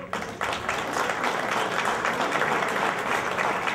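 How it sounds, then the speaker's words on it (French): A crowd applauds steadily at a women's pétanque triples championship, a dense wash of many hands clapping at close range for several seconds. "Bon, applaudissez-les."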